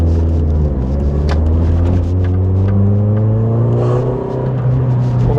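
A 1986 Toyota Corolla AE86 GT Coupe with a twin cam engine pulls hard. A loud, close engine drone rises steadily in pitch as it accelerates, with no talking.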